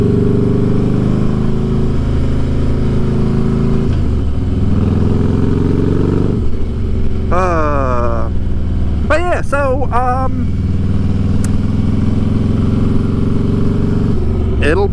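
A motorcycle engine idles with a steady low rumble and then revs briefly several times in the middle, the pitch rising and falling, while people talk over it throughout.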